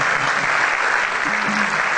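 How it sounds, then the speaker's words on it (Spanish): Concert crowd applauding, a thick continuous wash of clapping at close range, with a faint voice briefly underneath. "Un aplauso para mi ahijado."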